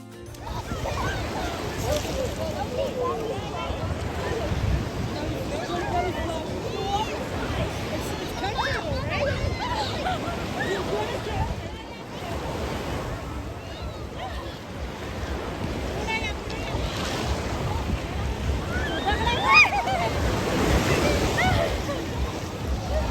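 Lake waves wash continuously on a crowded, hot summer beach at Port Stanley near Toronto, a broad rushing surf roar mixed with wind buffeting on the microphone and distant chatter of swimmers and beachgoers.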